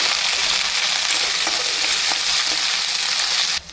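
Cut okra, ladies' finger pieces, frying in hot oil in a kadai, giving a steady, close, even sizzle with faint stirring clicks throughout before it cuts off abruptly near the end.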